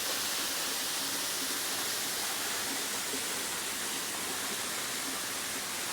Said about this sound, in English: Just listening to the water run by.